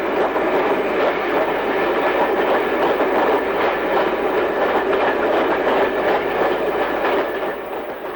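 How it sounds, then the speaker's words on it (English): Class AL3 electric locomotive E3034 heading south through Stockport Station, a loud, steady rolling roar with rhythmic clickety-clack of wheels over rail joints throughout. "This is E3034 of Class AL3 heading south through Stockport Station."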